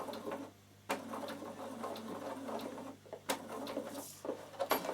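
A Bernina sewing machine stitching across leather, a steady close mechanical whirr broken by a few sharp knocks and clicks, with no one talking over it.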